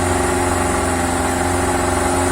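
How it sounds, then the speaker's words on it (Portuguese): A sailboat's motor running steadily, a loud constant drone with even vibration and no change in pace, heard up close on board. "Liguei o motor, tô indo sentido Pontal do Sul"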